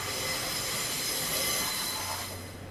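A city train in Amsterdam runs along the rails with a steady, loud rumble and a faint squeal of wheels throughout, no voices.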